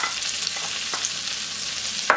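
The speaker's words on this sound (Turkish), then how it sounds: "Ve soğan, biberlerimden başlayarak kavuracağım." Onions, garlic and peppers sautéing in melted butter in a pan, giving a steady soft sizzle with stirring scrapes throughout and a brief louder clatter near the end, no voices.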